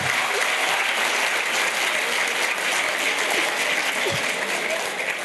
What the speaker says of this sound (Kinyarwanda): Big applause for NDAHIRO David, please